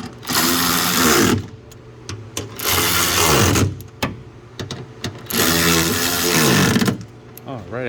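Bolts on the battery bracket of a 2011 Chevrolet Silverado being driven tight with a power tool, three loud whirring bursts with short pauses between them, up close.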